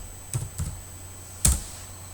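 Three short clicks of typing on a computer keyboard, close and quiet, two soft keystrokes followed by a sharper one after a pause.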